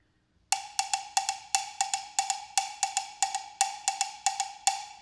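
Bright percussive clicks in a quick syncopated cinquillo pattern of five strikes per cycle, repeating evenly without any other sound.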